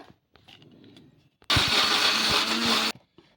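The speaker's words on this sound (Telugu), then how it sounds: "ఇలా మిక్సీ పట్టేసుకుందాం" A mixer grinder blending bottle gourd roars loudly for about one and a half seconds, then cuts off abruptly, with faint handling clatter before and after.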